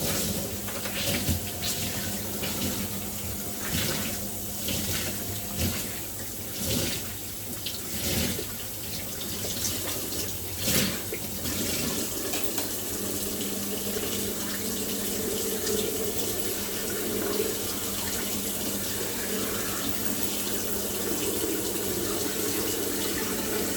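Water runs steadily from a tap while rinsing dreadlocked hair, splashing and gurgling with brief bursts early on, then settling into a continuous flow.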